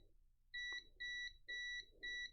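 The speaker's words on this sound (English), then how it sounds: "this one is beeping on both sides." A continuity tester gives four short, evenly spaced electronic beeps, each a clean high tone lasting about a quarter second, over a faint low hum.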